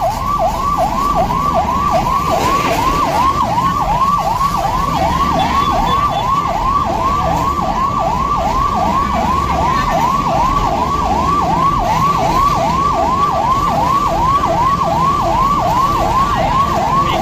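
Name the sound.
fire engine siren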